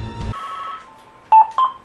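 A telephone sounding nearby: a sustained electronic tone, then a short burst of loud beeping tones at the end, after a brief low rumble.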